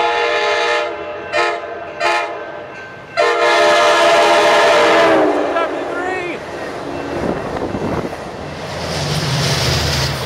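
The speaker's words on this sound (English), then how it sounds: "here comes a southbound surfliner through Sorrento Valley Station." A southbound Amtrak Surfliner passenger train sounds several horn blasts, then roars loudly through Sorrento Valley Station, the rumble fading into wind-like noise as it passes.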